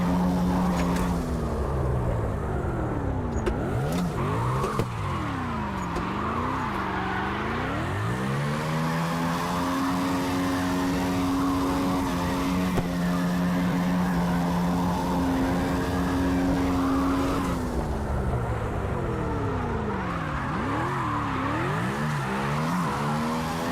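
A car engine revs and drops in pitch repeatedly as it slides on the handbrake and downshifts into second gear, a steady, close drone with rising and falling sweeps throughout and no talk.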